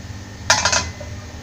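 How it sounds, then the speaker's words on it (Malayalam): A metal cooking pot set down on a kitchen stove with a short cluster of clinks and knocks, close and moderately loud, over steady low background hum, before making egg fried rice. "ഇതിനായിട്ട് ഒരു പാത്രം അടുപ്പത്ത് വെക്കാം"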